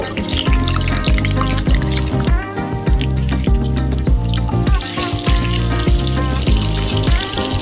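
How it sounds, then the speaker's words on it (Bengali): Potatoes fry in mustard oil with a loud, bubbling sizzle, heard up close, while a rhythmic instrumental tune plays prominently over it. "আমরা সরষের তেলে এইভাবে কেটে রাখা আলুগুলোকে ভেজে নেব"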